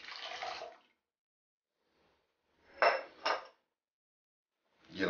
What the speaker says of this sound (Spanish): Ponemos el líquido.